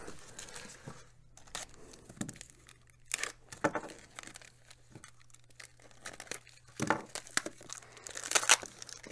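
Card mail package torn open by its side flap, giving a series of crinkling, tearing rips of paper in uneven bursts, close and fairly quiet, with the louder tears toward the end.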